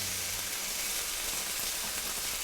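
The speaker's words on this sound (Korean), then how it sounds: "파프리카하고 버섯 두 가지만 볶는 이유가 있는 건가요?" Bell peppers and mushrooms stir-fry in a pan, giving a steady, even sizzle of frying close by with no talk over it.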